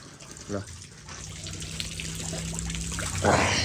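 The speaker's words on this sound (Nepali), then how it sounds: "धारो रहेछ अब पानी खाँदैछु म" Water trickles and splashes steadily from a spout on a hiking trail, while a voice speaks briefly at the start and again near the end.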